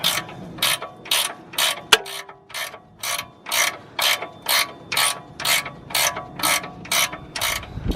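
A ratchet wrench clicks in steady rhythmic bursts, close and loud, tightening the front ball joint nut on the control arm of a BMW E60's suspension, with one sharp metallic clank early on.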